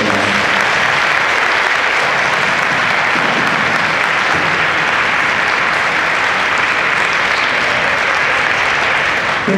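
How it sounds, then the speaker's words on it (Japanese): Dense, sustained applause from an audience after a student music performance at a school stage event fills the whole stretch, loud and steady with no break. "もう一度皆さん大きな拍手をお願いします"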